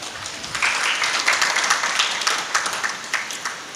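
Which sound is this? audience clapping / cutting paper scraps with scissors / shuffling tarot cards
audience clapping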